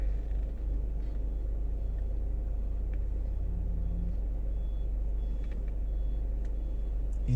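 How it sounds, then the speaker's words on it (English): Low steady engine rumble of a truck backing up near a bottling site in Jamaica, a constant droning idle with faint scattered sounds on top and no talking. "the truck is now backing up"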